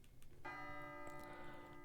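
A single bright bell strikes once at moderate volume, like a chime in a song, and its ringing tone lingers over a low background murmur.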